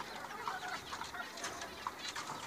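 Soft, high chirping clucks from a young chicken, repeated irregularly at close range with a faint background.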